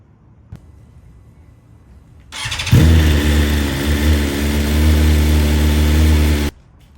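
A 2024 BMW S1000RR sportbike engine cranks and fires up, then settles into a loud, steady, throbbing idle while warming up, running close by for about four seconds before cutting off abruptly.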